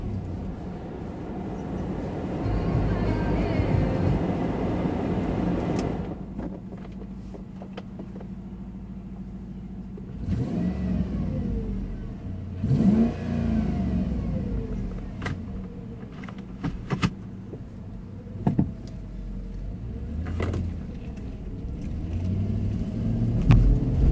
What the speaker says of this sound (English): Maybe I can get you a little feel for the acceleration this thing has.